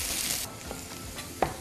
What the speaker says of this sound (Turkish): Patatesleri alıp yağın içerisine atıyorsunuz. Altını kısıyorum ve patatesleri yağda azıcık çeviriyorum.